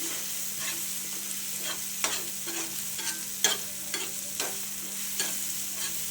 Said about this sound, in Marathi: पूर्णपणे त्या तेल ठेच्याला तेल सुटेपर्यंत आपल्याला हे परतत राहायचं आहे